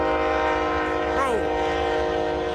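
A train sounds its horn in a loud sustained chord while passing at a railroad crossing, the pitch bending as it goes by, with a constant rumbling roar underneath and no talk.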